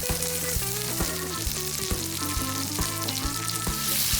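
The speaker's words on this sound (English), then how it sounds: "Add some butter to the pan and toss in the peeled garlic cloves." Butter and peeled garlic cloves sizzle in a cast iron pan after a steak is seared, a steady bright hiss running under louder background music with plucked, stepping notes.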